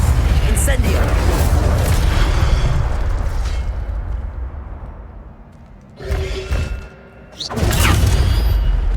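The Incendio fire spell is cast in the video game Hogwarts Legacy, producing a loud, roaring whoosh of flame with booming bursts that rolls on for several seconds, dips briefly, then flares up again.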